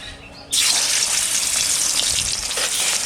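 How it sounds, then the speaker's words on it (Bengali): After a quiet half second, fish hits hot oil in a pan and a loud, bright sizzle bursts out and holds steady for the rest of the moment. The frying is close and there is no talk. "মাছটা আমি ভেজে নিই"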